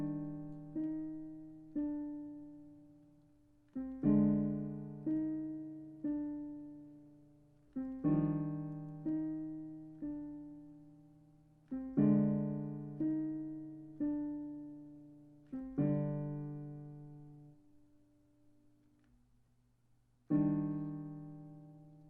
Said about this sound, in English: On the piano, it sounds like this.